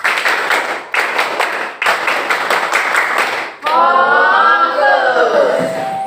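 A class claps together in a quick rhythmic Indonesian scout clapping pattern with short pauses, then breaks into a loud group shout.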